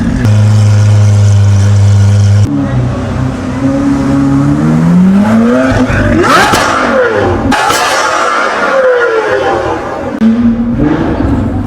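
A powerful supercar engine rumbles loudly throughout on a London street, revving up and down in sharp bursts with whining rises, close by and dominant the whole time.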